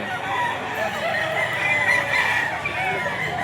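A bull stag rooster crows at a busy pet market, one drawn-out call heard over the steady murmur and chatter of the crowd.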